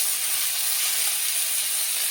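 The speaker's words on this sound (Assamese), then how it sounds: "এনেকৈ তেলতে অকণমানকৈ ভাজি ল'ব লাগে" Sour leaves frying in hot oil give a loud, constant sizzling hiss with no breaks and no voices.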